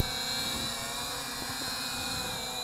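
A KFPLAN KF609 toy drone flying outdoors in wind gives a steady high-pitched rotor whine, close and continuous, with wind rumble beneath and no talking.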